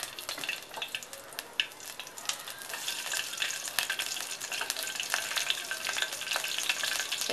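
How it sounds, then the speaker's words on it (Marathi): Chillies fry in a pan for an Indian daal palak, with a busy crackling sizzle and scattered popping bursts that grow denser as the clip goes on, close and steady with no talking. "मिरच्या आहेत ह्या तिखट आहेत, त्याच्यामुळे मी त्या तोडून टाकणार आहे।"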